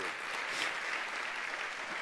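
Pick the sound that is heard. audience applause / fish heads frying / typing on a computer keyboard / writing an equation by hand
audience applause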